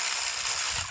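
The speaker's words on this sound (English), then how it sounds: "For this bracket bolt here, I had to get a long 10mm socket." A ratchet with a long 10mm socket loosens a wiring harness bracket bolt on a 2012 Honda Civic during alternator replacement, giving a dense, close, steady buzz of rapid pawl clicks that fades at the end.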